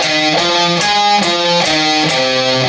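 An electric guitar plays a slow alternate-picked shred riff, evenly spaced notes each ringing into the next, loud and steady with no voices.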